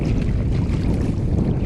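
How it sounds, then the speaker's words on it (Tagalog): Strong northeast monsoon wind batters a boat out in the middle of the sea, a loud, steady roar of gusts buffeting the microphone with water noise underneath, continuous for the whole stretch with no voices. "Malakas na hangin ang sumalubong sa amin sa gitna ng dagat"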